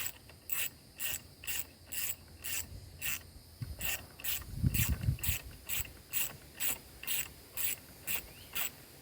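A ratchet wrench tightening a seat bolt in a 1994-1997 Mazda B-Series pickup during a custom seat install gives steady, evenly spaced metallic clicks, close and loud, with a brief rubbing scrape partway through.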